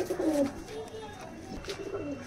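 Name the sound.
pigeons cooing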